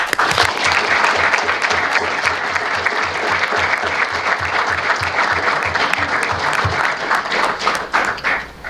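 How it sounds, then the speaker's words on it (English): A town council meeting audience gives a round of applause, dense and steady clapping from a crowd that holds strong throughout and starts to thin only at the very end. "And I'll just ask for one more round of applause"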